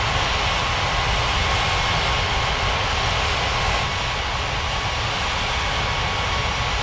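Jet airliner engines rumble steadily as an Aeromexico aircraft taxis to the gates at an airport in an air traffic control game, a broad continuous roar holding at even loudness with no voices.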